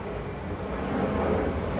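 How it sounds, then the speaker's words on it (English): An aircraft taking off nearby during a cylinder head rebuild on an Alfa Romeo Alfasud 1.5 TI Quadrifoglio Verde, a continuous loud low roar that swells slightly, heard alone throughout. "Of course our friend aircraft always taking off here."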